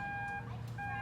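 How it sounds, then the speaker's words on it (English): A 1996 Toyota 4Runner's aftermarket keyless entry box sounds a short, close, two-part electronic beep on unlocking, a clear steady tone with a brief break in the middle. "Makes a fancy little beep out of the box"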